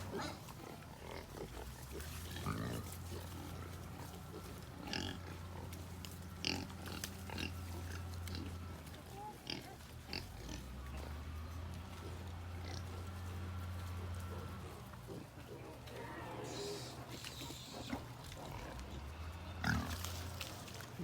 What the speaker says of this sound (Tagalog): mga anak po ni Bobby ang mga biik na ito